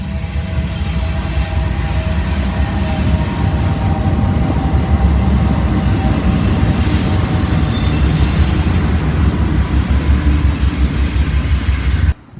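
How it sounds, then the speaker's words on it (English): A long freight train rolls slowly past the station in Bristol, Tennessee and Virginia, with a loud, steady rumble of wheels, metallic squeals and clacking over the rails, close by, until it cuts off at the end. "That was a long train"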